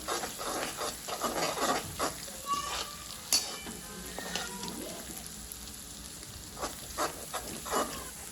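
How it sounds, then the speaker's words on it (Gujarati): Ginger and green chili sizzle in oil over a low gas flame, a soft, close frying crackle with repeated scraping stirs, no talk over it. "હવે લગભગ 1 મિનિટ જેટલું જિંજર અને ગ્રીન ચીલી તેલમાં સાતળવાનું છે."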